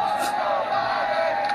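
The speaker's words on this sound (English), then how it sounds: "as you can hear the chants from the crowd" A crowd chants "Let's go Brandon" in a dense, steady roar of many voices that fills the space without a break.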